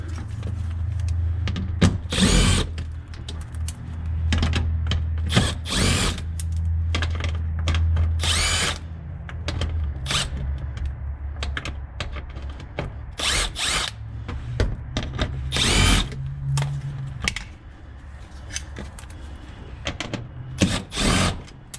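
A power drill backs out 7mm bolts from the front bumper of a 2019 Mustang in repeated short whirring bursts over a steady low hum, close and loud.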